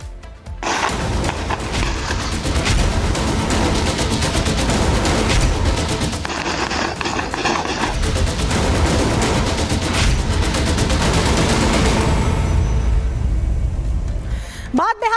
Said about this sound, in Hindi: बिहार गोलियों की आवाज से थरथरा रहा है